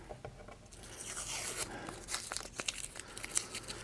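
Tape peeled off a guitar body makes a crackling, tearing rip with bursts of crinkling and uneven scratchy peaks, heard close and without talk.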